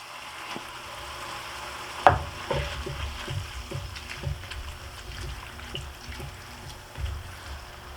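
Sloppy joe mixture with Rotel simmers and sizzles in a pan, soft bubbling and frying crackle under occasional stirring scrapes and clanks, close and fairly quiet.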